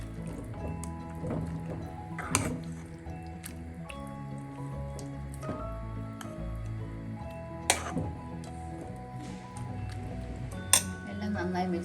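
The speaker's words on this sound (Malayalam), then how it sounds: "എല്ലാം കൂടെ ഒന്ന് നന്നായിട്ടൊന്ന് മിക്സ് ചെയ്യാം" Chicken mixed with ground coriander and mint in a pan for a hariyali chicken gravy, giving soft wet squishing and occasional clinks of a utensil, with a person talking steadily throughout.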